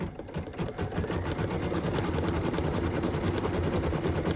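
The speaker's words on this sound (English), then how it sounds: "We are going to stitch the final outline" An embroidery machine stitching the final white outline around a Christmas ornament in the hoop, a continuous fast, even whirring chatter close by with no speech.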